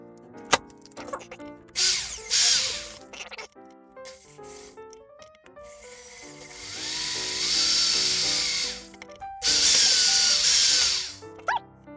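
A cheap power drill bores holes, whining in several loud bursts separated by pauses, each burst rising in pitch with a harsh grinding edge as the bit cuts through the material.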